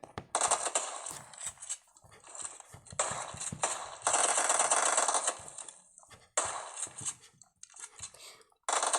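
Video game gunfire comes in rapid bursts of sharp shots and clatter, loud and close, broken by short gaps and quieter game noise.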